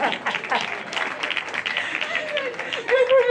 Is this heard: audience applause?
yes